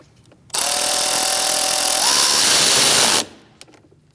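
A power tool whirs steadily for about three seconds on a 2000-2006 Mini Cooper 1.6L engine as the thermostat housing nut is run down, its pitch rising slightly near the end, loud and close with no talk.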